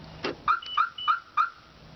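A car alarm sounds in short repeated chirping tones, four evenly spaced bleeps with a warbling pitch, moderately loud and nearby.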